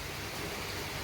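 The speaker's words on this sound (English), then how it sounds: "Tropical rain." Steady tropical rain in Bali falling as a dense, even hiss with no breaks, close and moderately loud, no voices over it.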